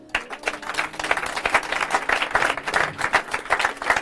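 A church congregation applauds and cheers for Jesus, with dense, sustained clapping and crowd noise that builds and continues throughout.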